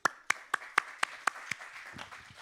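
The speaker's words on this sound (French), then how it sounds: "je vous demande de l'applaudir" A handful of sharp, evenly spaced claps at a regional council presentation in Nouvelle-Aquitaine greet councillor Pascal Duforestel, then trail off into quiet room noise.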